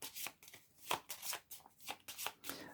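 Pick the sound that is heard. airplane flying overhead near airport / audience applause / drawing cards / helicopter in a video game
drawing cards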